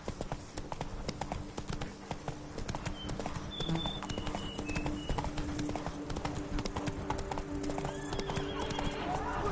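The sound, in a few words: horse galloping and neighing in video game Witcher 3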